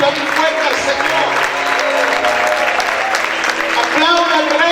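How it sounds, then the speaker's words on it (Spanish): Church congregation clapping and cheering loudly during a Spanish-language sermon, a dense continuous wash of applause with shouted voices over music, steady throughout. "¿Cuántos pueden gritar y aplaudir fuerte al Señor?"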